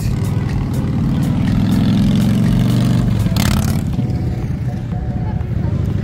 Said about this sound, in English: Where'd you get the motorcycle?